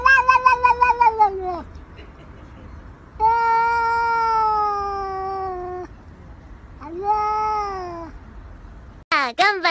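A cat meows three times in long, drawn-out, wailing calls, close and fairly loud with pauses between them, and a brief burst of another sound at the end.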